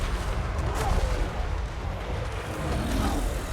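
Hobgoblin archers with flaming attacks loose volleys in a Total War Warhammer 3 battle, heard as a dense, steady roar of battle noise with deep rumbling and scattered sharp cracks throughout.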